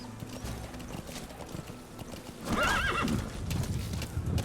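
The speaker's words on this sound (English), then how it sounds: "We need to name the horse." In the video game Metal Gear Solid V: The Phantom Pain, hooves clip-clop steadily before a horse lets out a loud, wavering neigh close by.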